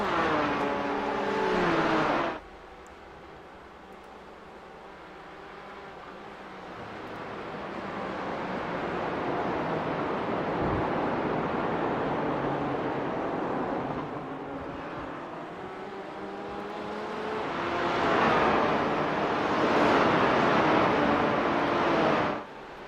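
GT4 race cars climb the hill at Mosport, engines roaring past at a distance in waves, with one car's note sweeping through early on and another swelling pass near the end.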